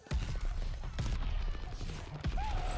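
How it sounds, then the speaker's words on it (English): Mortar barrage explosions boom in the video game Vanguard, a few sharp blasts with scattered gunfire between them, fairly quiet in the mix. "I've literally got a mortar barrage on it."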